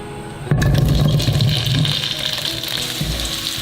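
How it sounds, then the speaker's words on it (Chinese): Peeled boiled potatoes hit hot oil in a wok with a sudden loud sizzle that bursts in after half a second, then keeps crackling and hissing steadily close by. "把土豆放进来煎"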